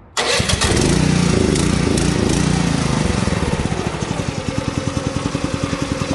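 A small engine cranks and catches abruptly, roaring loudly at first, then settling into a steady, rapid putter close by.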